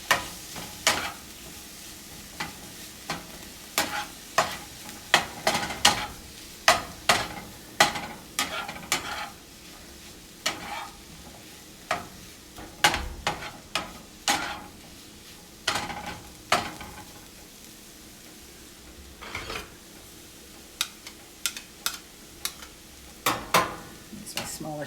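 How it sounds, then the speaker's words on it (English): Ginger beef sautéing with carrots and onions in a pan, a soft continuous sizzle broken by frequent sharp clacks and scrapes of a spatula stirring, with occasional quiet talk. "So I'm just going to add that in and just let that saute for a bit as well."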